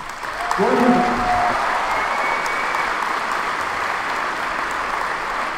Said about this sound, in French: Applaudissez cet homme courageux qui va permettre à vos questions d'être entendues.